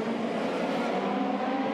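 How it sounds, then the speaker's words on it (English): 2008 IndyCar race cars at an Australian race leave the pits together, a dense, high-pitched engine whine sustained across a short burst, loud and near without distinct individual passes. "A whole pile of cars wanted to leave the pits at the same time."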